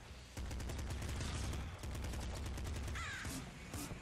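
Pop rifle fire in the video game Nuclear Throne: quiet rapid volleys of snappy shots in short bursts, separated by brief pauses, with a few electronic chirps.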